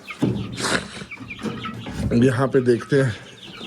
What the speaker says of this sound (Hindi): 4 मुर्गियाँ हैं इसमें।